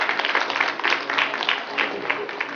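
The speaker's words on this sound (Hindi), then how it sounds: "Big hand. तालियां तो बनती हैं." An audience applauds at a cake-making demonstration with a chef, with dense, steady clapping that carries on throughout at a moderate distance.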